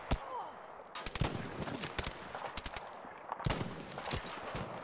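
Bursts of machine-gun fire in Battlefield V, several sharp, loud volleys with gaps between them, set against a busy backdrop of battlefield noise.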